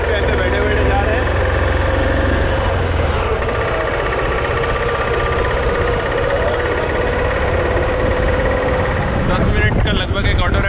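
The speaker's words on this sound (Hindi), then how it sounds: "अमृतसर पे ऑटो राइड ले रहा हूँ और यहाँ का ऑटो राइड पे ऐसे बैठे बैठे जा रहे हैं।" Steady engine drone and road rumble from an auto rickshaw carrying a passenger through the streets of Amritsar, continuous and fairly loud throughout with traffic noise around it.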